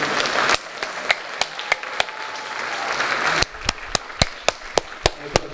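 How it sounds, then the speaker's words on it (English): An audience at a high school spring music concert applauds, a steady wash of clapping that thins to a few loud, spaced individual claps, then swells briefly and again breaks into scattered distinct claps. "a well-deserved, thunderous round of applause for Marshfield Friends of Music"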